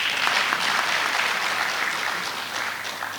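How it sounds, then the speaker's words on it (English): Steady audience applause at an induction ceremony of the Ghana College of Physicians and Surgeons, honouring a professor; dense, even clapping from a sizeable crowd, sustained throughout and slowly tapering slightly toward the end, with no voices over it. "Clap for our prof."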